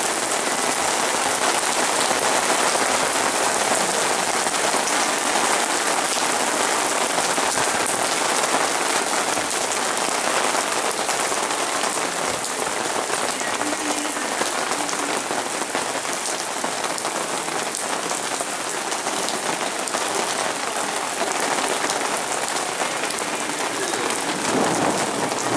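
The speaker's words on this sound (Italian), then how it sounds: "Castel Romano sotto la pioggia" Rain pouring down at Castel Romano in June, a dense, loud, unbroken hiss of drops hitting surfaces that holds steady for the whole stretch without any voices.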